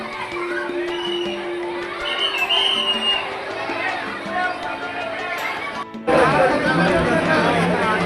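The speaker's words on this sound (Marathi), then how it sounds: "तुम्ही पाहू शकता इथे खूप गर्दी झालेली आहे." A crowded Mulund railway station platform fills with chatter and shouting. Many voices blend into a dense, loud murmur, and a louder burst of noise swells near the end.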